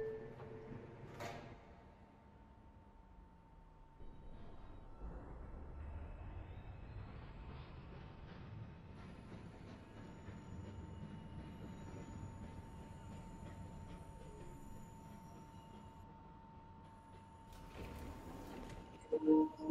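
Interior of a New York subway 3 train on the White Plains Road local line, bound for Eastchester–Dyer Avenue: a steady rumble of the moving car, a brief squeal early on and a louder burst near the end.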